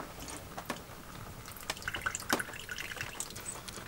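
Water leaks into a converted camper van, with scattered close drips and small splashes landing irregularly over a faint background hiss.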